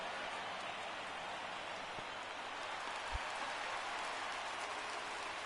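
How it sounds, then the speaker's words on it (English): Rain falling in the MLB 19 baseball video game, a steady even hiss of rainfall with one soft low thump partway through. "the conditions aren't ideal with the rain coming down"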